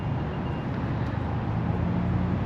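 Steady low rumble of road traffic, a continuous idling drone with no clear passing vehicles, moderately quiet.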